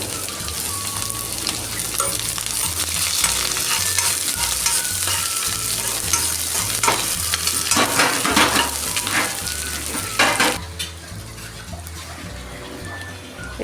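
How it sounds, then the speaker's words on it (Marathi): Chopped onion frying in hot oil with cumin and mustard seeds for bhindi masala, a loud steady sizzle with occasional spoon scrapes and popping crackles throughout, a low hum beneath. "आता आपण यात कांदा घालणार आहोत."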